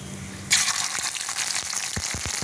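Prawns drop into hot oil with black cumin, a bay leaf and dried chilli, setting off a sudden loud sizzle that keeps crackling and spitting steadily, close up with a few sharp pops.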